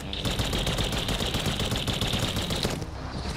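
Rapid repeated gunfire from a shotgun-type weapon in an action video game, a dense rattling stream of shots lasting about three seconds, loud and continuous.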